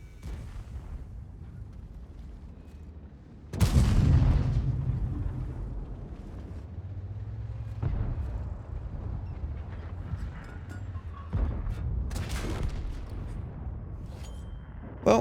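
Tank gun blasts in World of Tanks, the Concept 1B tank in battle: a loud booming shot with a long decaying rumble, followed by several softer thuds and distant impacts over a low engine drone.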